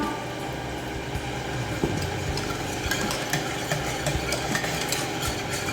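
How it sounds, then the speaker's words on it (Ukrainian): A mixture with milk for choux pastry is stirred hard in a bowl, a continuous close scraping and sloshing with quick irregular clicks of the utensil against the sides. "та інтенсивно все перемішуємо"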